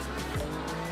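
A WEC endurance race car at Silverstone pulls away from a pit stop after a tyre change, a brief, close engine roar with a short tyre squeal over steady track noise.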